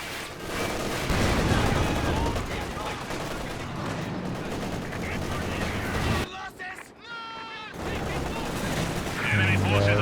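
Machine gun fire and other weapon bursts in the real-time strategy game Company of Heroes 2 during a 1v1 match, dense rattling gunfire with booms, loud and continuous under a commentator's voice.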